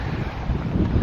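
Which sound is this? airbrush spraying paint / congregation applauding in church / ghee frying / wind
wind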